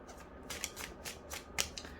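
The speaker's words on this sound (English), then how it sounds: "I'm gonna pull the rest of the cards." Tarot cards drawn one by one from a deck, giving a series of soft, brief papery swishes and snaps spaced irregularly, quiet and close with no talking.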